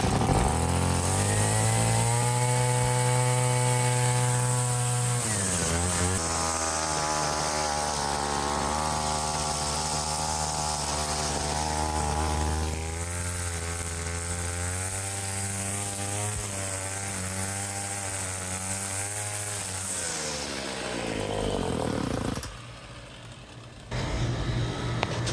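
Gas weed eater engine running after repair, a close, loud two-stroke buzz that revs high, drops and wavers through changing speeds, then cuts off abruptly near the end, with no talking.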